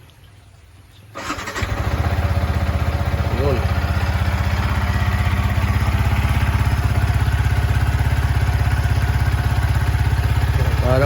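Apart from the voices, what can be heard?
Yamaha XSR155 motorcycle engine starting and running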